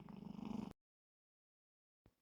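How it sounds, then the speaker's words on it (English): A cat purrs in the background during a cardmaking session with 3D embossing folders, a short rumbling stretch that cuts off into silence before a brief faint noise. "if you think you're hearing purring in the background, you're not imagining things"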